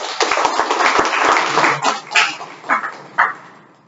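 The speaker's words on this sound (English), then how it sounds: "Can we have a applause?" An audience at a speaking club meeting gives applause, a burst of clapping with scattered close claps and a few livelier peaks that taper off within a few seconds.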